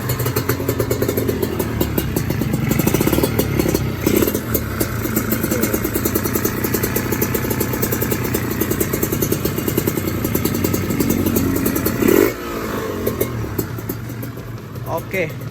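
A Kawasaki Ninja RR 150 two-stroke motorcycle, just repaired after the wrong oil was used, idles close by with a steady, buzzy, crackling engine note. Someone talks over it.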